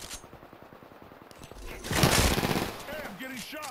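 Gunfire in an Apex Legends match, a fast rattle of rapid shots that swells into a louder, denser burst before fading, with a voice speaking briefly over it.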